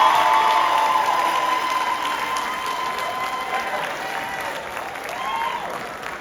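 An audience applauds the Matanzas High School Blue Steel band at a holiday show. Full, sustained clapping with a few cheers gradually tapers off over several seconds.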